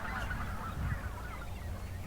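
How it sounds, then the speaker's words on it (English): Snow geese and white-fronted geese honking, a faint flock giving repeated overlapping calls at some distance, alone without talk. "Snow geese and white-fronted geese again."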